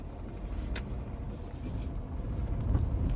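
A 2006 Dodge Stratus on a test drive after new spark plugs and coil wires, heard from inside as a low, steady engine and road rumble with a few faint knocks.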